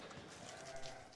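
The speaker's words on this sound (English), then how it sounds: "She's a big sheep, though." A large ewe on a farm during lambing season bleats in a short, steady call over a noisy background, fairly close and moderately loud.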